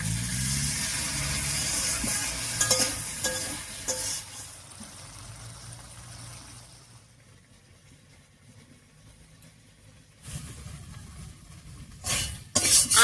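Ground spice paste and potatoes being sautéed in a pan with water for a Bengali rui fish curry give a moderate sizzle and stirring at first, fading to near quiet midway, then returning with louder scraping bursts near the end.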